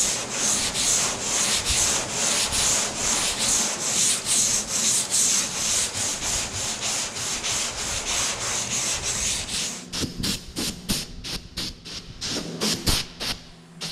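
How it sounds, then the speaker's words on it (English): Block sanding of bondo body filler with 120-grit paper, a rapid steady rhythm of rasping back-and-forth strokes, close and loud, then slowing into separate distinct strokes near the end. "I went over this bondo with 120 on the block"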